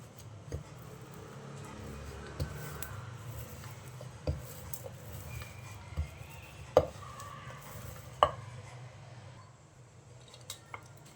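A knife cuts hot, freshly rolled sesame chikki into pieces, making faint, sparse taps and crunches spaced a second or two apart over a quiet background.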